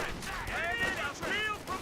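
Rifle and machine-gun fire crackles in a Company of Heroes 2 battle between grenadiers and riflemen, in quick overlapping bursts at moderate volume with whistling ricochet-like tones mixed in.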